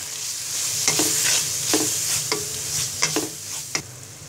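Turmeric, chili powder and salt stirred into frying masala for pigeon meat bhuna, a spoon scraping the pan in regular strokes about every half second over a steady close sizzle.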